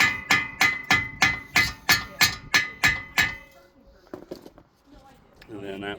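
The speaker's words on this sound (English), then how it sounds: "I like to just give it a little tap." About ten sharp metallic taps, evenly spaced and loud, on a brake caliper bolt of a 2017 VW Tiguan front brake, followed by a few quieter clinks and faint rustling.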